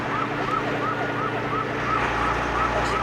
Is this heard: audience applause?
no